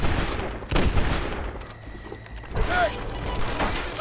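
Gunfire in the video game Red Dead Redemption, several loud bursts and booming shots over a dense, rumbling game soundscape with brief mechanical creaks, close and continuous for a few seconds, with no talk.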